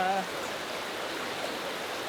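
Steady rushing of flowing water fills the scene, a constant even hiss of a nearby stream, briefly preceded by a faint voice.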